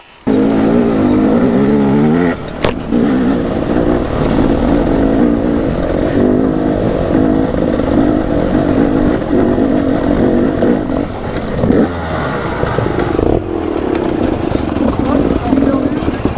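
A loud dirt bike engine runs steadily throughout during trail riding practice, rumbling and revving near the microphone while people talk over it.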